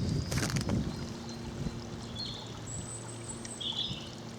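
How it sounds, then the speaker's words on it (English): A babbling brook along a countryside walk near Sevenoaks, a steady soft wash of flowing water with a few thumping sounds at the start and faint birdsong chirps above, fairly quiet throughout. "past this babbling brook"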